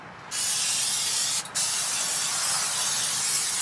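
Cooking oil sprayed inside a smoker during cleaning and seasoning, a long loud hissing spray that cuts off briefly partway and then continues steadily.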